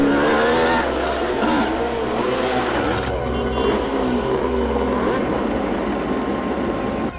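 A fourth motorbike rolls up beside a parked truck, its engine a loud, continuous droning whir that shifts in pitch partway through as it arrives.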